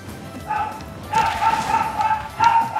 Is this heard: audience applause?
no